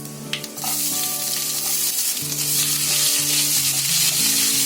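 Cumin seeds, chopped ginger and garlic fry in hot oil in a pan, giving a loud, continuous close-up sizzle with a few stirring clinks near the start, over a steady melodic background music bed.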